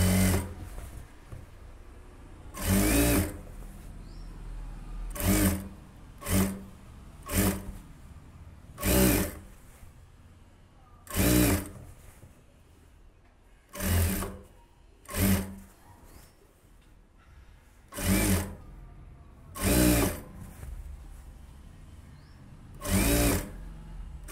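A sewing machine stitches piping onto the neck of a 42-inch blouse in short, repeated bursts of rapid whirring, about a dozen separate runs with quiet pauses between them, heard up close and alone.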